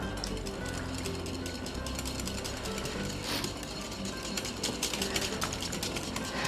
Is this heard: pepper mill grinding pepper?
yes